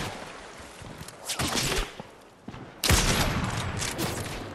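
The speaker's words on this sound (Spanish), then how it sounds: "O sea, tú me está disparando y está partiendo." Bursts of rapid gunfire from the video game Fortnite, one volley then a pause and a longer, louder barrage, heard alone without talk.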